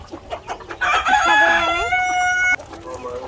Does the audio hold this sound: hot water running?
no